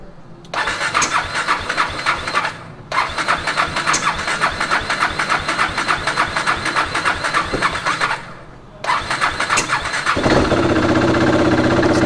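A KTM motorcycle with a dead battery starts up: a squealing crank catches into a loud, close idle that dips twice as the throttle drops, then settles into a steady, slightly raised running note.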